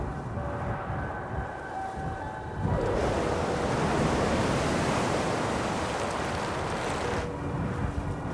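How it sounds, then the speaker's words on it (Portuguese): Ocean waves breaking against basalt cliffs on the Kamchatka coast: a broad roar of surf that swells loudly and holds, with wind noise, then eases toward the end. "Falésias basálticas desafiam as ondas."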